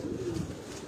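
Pigeons in a breeder's loft on a rooftop in Karachi give a low, steady coo at close range over a constant background hum.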